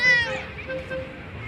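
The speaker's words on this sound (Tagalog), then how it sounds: "Ayun yung isang pusa sa upuan" A cat in an outdoor family park in Al Ain meows once, a clear drawn-out call near the start, then fades into quieter background murmur with some faint talk.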